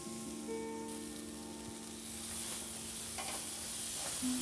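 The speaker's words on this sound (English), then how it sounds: "And we'll continue grilling the meat for a few more minutes." Steak on a grill sizzles with a continuous hiss that swells louder halfway through, beneath faint background tones.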